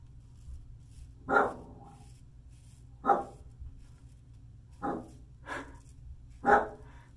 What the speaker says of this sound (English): I'm gonna see what she's barking at.